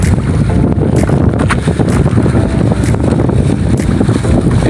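A loud, rumbling fishing boat engine runs continuously at sea, mixed with heavy wind buffeting against the microphone.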